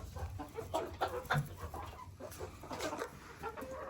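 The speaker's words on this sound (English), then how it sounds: "Got the barred rocks, got Miss Frizzle, got a little Bantam over there, a couple of black Australorps." Backyard hens, barred rocks, a bantam and black Australorps, cluck and murmur continuously in soft overlapping calls at close to moderate distance.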